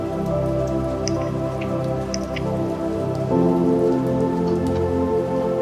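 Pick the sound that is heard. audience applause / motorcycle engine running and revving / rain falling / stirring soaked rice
rain falling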